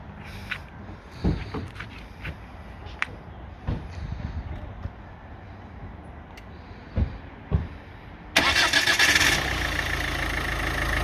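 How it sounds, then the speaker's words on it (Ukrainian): A 2008 Ford Focus 1.6 (66 kW) engine is cranked and fires up after several quiet clicks and knocks, then settles into a steady, loud idle close by. "Зараз заведемо, послухайте, як працює мотор."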